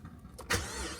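A Pontiac G8 engine cranks and catches after a battery replacement, a brief starter whir followed by a sudden surge into a steady idle, heard close up.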